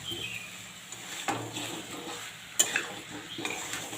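Papaya and potato being stir-fried with chicken in a pan for a Bengali chicken curry: a low sizzle under a few distinct spatula scrapes and clinks against the pan, close by, with no speech.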